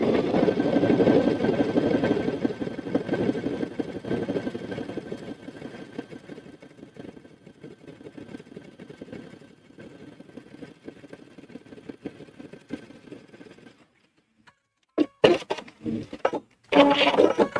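A home sewing machine runs steadily while stitching a zipper bag with a strap inside, a continuous motor whir that stops near the end, followed by a few short handling clicks and knocks.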